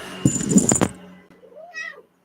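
A cat gives a short close meow with a rising-falling whine, preceded by a burst of clattering handling noise, all within about two seconds.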